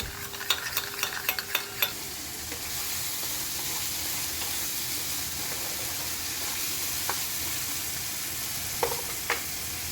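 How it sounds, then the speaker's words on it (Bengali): Yogurt and sugar are whisked in a bowl for a prawn-in-yogurt dish, quick rhythmic clinks for about two seconds, then a steady background hiss with occasional taps. "আমি এই দইটার ভিতরে না চিনি দিয়ে দিচ্ছি চিনি দিয়ে দইটা ফেটাবো"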